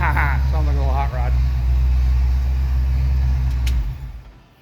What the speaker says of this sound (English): I like how the exhaust sounds.